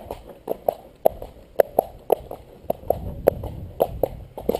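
Hooves of a cob horse walking clip-clop at an even pace, each step sharp and close, alone without voices.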